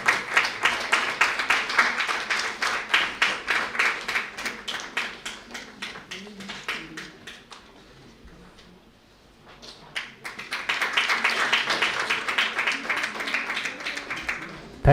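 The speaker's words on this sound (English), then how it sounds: "And finally, we have give a huge round of applause for Mr. Amit Kumar." At a seminar, an audience claps in a steady rhythm that fades to near quiet midway, then swells back up into loud, even clapping.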